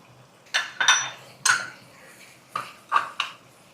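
Spoon or spatula scraping and clinking in a pan as green peas butter masala is stirred, with six distinct metallic clatters in irregular bursts and quiet gaps between, close and fairly clear.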